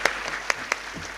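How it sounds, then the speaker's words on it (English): At a formal event, an audience gives a brief round of applause: a soft wash of many clapping hands with a few sharper claps standing out, heard from a slight distance. "give a big round of applause to Mr. Dempopli"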